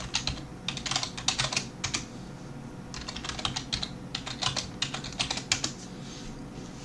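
A password is tapped out on a computer keyboard in quick bursts of key clicks separated by short pauses, close and clear with no talk.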